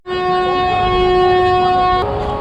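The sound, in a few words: Howrah-Puri Express train departing Howrah station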